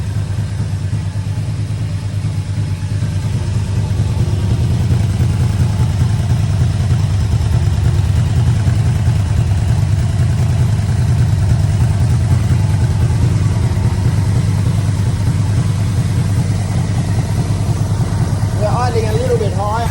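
A carburetted engine idles smoothly and evenly up close, a low steady rumble holding for the whole stretch, with a faint chirp near the end.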